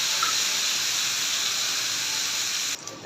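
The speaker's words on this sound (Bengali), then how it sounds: "কাঁঠাল বিচিগুলো একটু লবণ, মানে একটু চিনি দিয়ে ভেজে দিই" Jackfruit seeds fry in a pan with a little salt and sugar, a close steady sizzling hiss that stays even for several seconds and then cuts off abruptly near the end.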